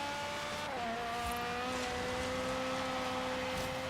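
A Ferrari F40 in Forza Horizon 3, rallycross build, engine held at full throttle, a steady loud whining drone with sustained tones that rise slightly as the car accelerates, with no talk.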